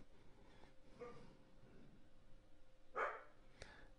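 A dog gives a couple of short barks indoors near a vacuum cleaner repair, one louder bark standing out against quiet room noise, moderately close.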